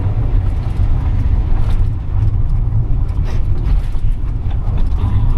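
A 2016 GMC 3500 U-Haul box truck roars under full throttle, a loud, steady low engine drone with road rumble and rattles heard from inside the cab, building for several seconds without letup.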